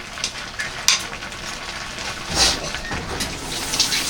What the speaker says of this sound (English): can you stir around the egg quick?